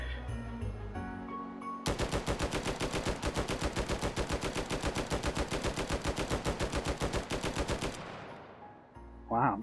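In the VR shooter Hot Dogs, Horseshoes & Hand Grenades, a gun fires fully automatic, about six seconds of rapid, evenly spaced loud shots. It stops abruptly, leaving a short ringing tail and then a brief mechanical clack.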